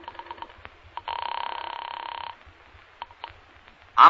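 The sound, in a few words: telephone ringing, radio drama sound effect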